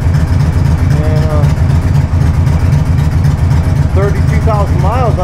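A 2003 Victory V92C cruiser motorcycle with a Freedom V92 V-twin engine runs steadily, a loud, close, continuous rumble throughout while someone talks over it.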